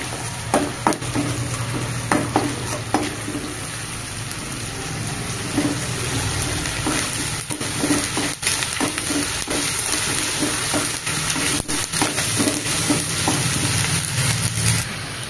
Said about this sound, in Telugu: అందులో కొద్దిగా అల్లం పేస్ట్ వేసుకొని బాగా పచ్చివాసన పోయేంత వరకు బాగా వేయించుకోవాలి